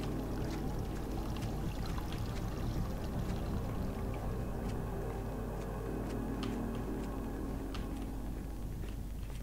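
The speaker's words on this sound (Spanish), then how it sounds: "Uy, agua, se oye por ahí" Running water in the horror video game White Noise 2, a steady, faint pouring and trickling wash that continues evenly throughout with no voices over it.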